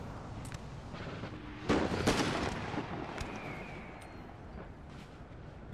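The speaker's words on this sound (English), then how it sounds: "Howitzers going in." Howitzer artillery fire in a Napoleonic Total War battle, a heavy boom rolling out midway over a background of distant gunfire and scattered crackling shots.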